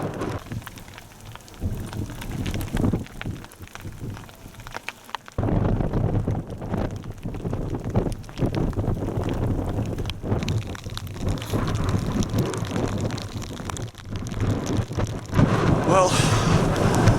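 Rain and gusting wind batter a microphone on a Lake District fell near Wansfell Pike, a loud, rough, continuous roar with brief lulls and no speech heard.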